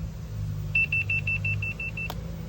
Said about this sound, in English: Press the horn.